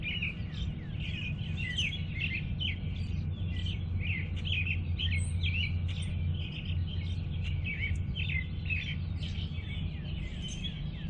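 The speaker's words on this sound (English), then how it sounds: "There's a bird in the bush with those red flowers there." Small garden bird chirping in a flowering bush in a spring flower bed, a steady run of bright repeated chirps and tweets over low background hum, close and continuous without talk.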